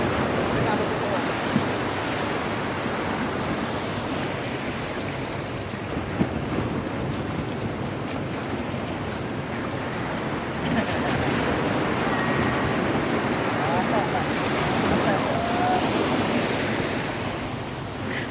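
Sea waves washing onto a beach during a family swim, a steady broadband surf roar with gusts of wind buffeting the microphone throughout, close and fairly loud.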